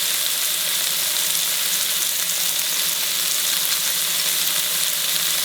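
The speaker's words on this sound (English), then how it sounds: "The tomato has to be fried well." Tomatoes frying in a pan with salt for a mixed vegetable dish give off a steady, dense sizzle that holds level for the whole stretch, close and loud, with no voices.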